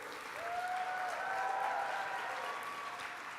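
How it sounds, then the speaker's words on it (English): A political rally crowd in Montgomery County, Texas, applauds steadily for a few seconds, a dense wash of clapping with some cheering mixed in, fairly distant and even in volume. "A big Texas, Montgomery County round of applause."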